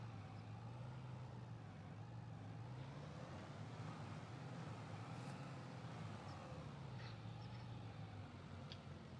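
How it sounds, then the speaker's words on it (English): A truck engine strains and drones steadily in Farming Simulator 25, a low continuous labouring hum that stays even and close throughout, with faint road-like rumble beneath and no voices. "Wow, this truck is really struggling."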